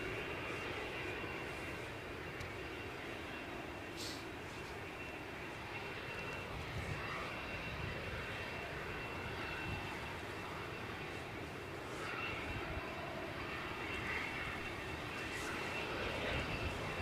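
An airplane landing at Edinburgh Airport in strong wind, 40 mph and up, gives a faint, distant, steady engine roar under heavy wind rumble.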